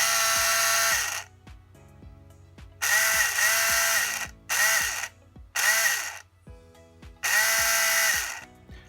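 The electric motor of a Tamiya 1/24 Stratos slot car conversion spins its wheels in loud, close whirring bursts of about a second each, starting and stopping with brief gaps of quiet between them.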